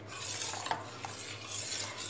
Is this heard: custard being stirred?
yes